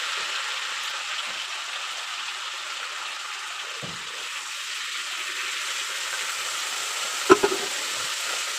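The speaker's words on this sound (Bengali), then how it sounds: "কালো জিরেটা ভাজা ভাজা হয়ে গেলে টমেটো কুচিগুলো দিয়ে দেবো" Chopped tomatoes and black cumin sizzle steadily in hot oil, a continuous frying hiss at moderate level with a brief clatter of stirring near the end, no voices.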